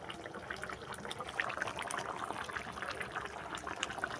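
Chopped coriander leaves are washed in water, producing a continuous soft splashing and trickling at low level, steady throughout with no voices.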